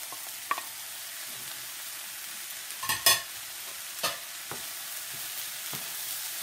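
Eggs frying and being stirred in a pan while making Filipino-style shrimp fried rice: a faint steady sizzle with a few sharp scraping clatters of the utensil, close, no talk.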